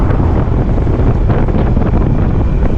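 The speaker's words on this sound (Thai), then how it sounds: "รู้สึกว่ามีลมหนาวเลยแล้วลมเย็นๆเนาะ" Cold wind blows across the microphone in the mountains of Xaisomboun province, Laos, as a loud, constant buffeting rush with no voices.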